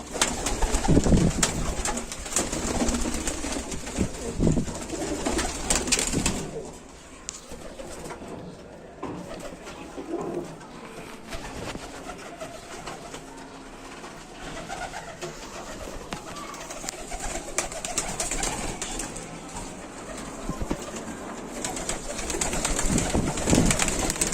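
Ankut pigeons, some of them white, coo steadily inside a pigeon loft, with a soft continuous murmur of many birds. Occasional fluttering and louder bursts rise above the cooing.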